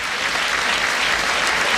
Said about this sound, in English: Mark Hughes turns and claps the paddock